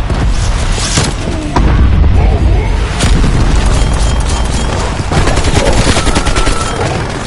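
A cruise missile strike in Black Ops Cold War Zombies on Nuketown sets off loud, continuous booming explosions mixed with rapid gunfire.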